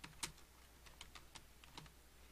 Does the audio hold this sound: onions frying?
no